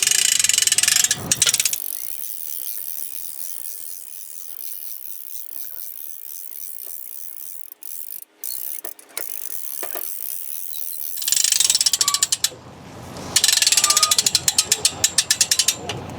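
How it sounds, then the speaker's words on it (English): Buckingham 105Q2-30 rescue winch cranked in a confined space rescue, giving bursts of close, loud ratcheting clicks at the start and again toward the end, with a quieter stretch of faint mechanical noise between. "you can then use the winch to rescue the person in distress"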